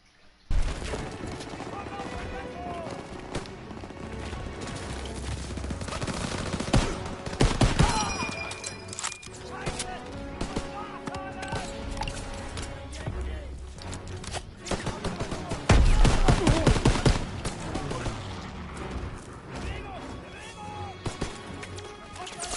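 Dense gunfire and battle noise from the World War II shooter game Call of Duty WWII, with bursts of shots and crashes over a continuous loud soundtrack, and brief voices mixed in.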